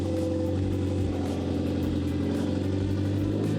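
An abandoned Renault Clio 182 hatchback's engine runs at a steady, fairly quiet idle with a low, even hum and faint pulsing, with no voices.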